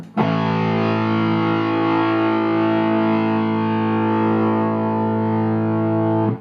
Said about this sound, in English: Let's bring the distortion back up, and you're going to see these changes happening via the toe mod.